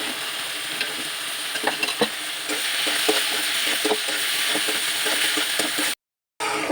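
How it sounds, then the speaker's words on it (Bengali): Frying in a pan with repeated scraping stir strokes and a steady sizzle as shrimp and cucumber are cooked down with ground nut paste, the clatter coming in irregular bursts before a sudden cutoff near the end. "বাদাম বাটা দিয়ে কষিয়ে নেওয়ার পরে"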